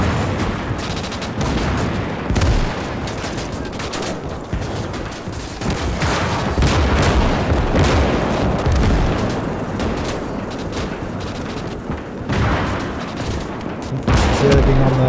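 Sustained battlefield gunfire in the Gates of Hell World War II strategy game, with dense overlapping rifle and machine-gun bursts and occasional booms rolling on throughout, moderately loud and constant.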